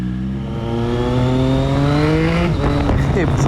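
A 2020 Triumph Street Triple 765 RS with an SC Project exhaust screams up through its revs at speed, steady and close, with a throaty exhaust note and gear shifts near the end.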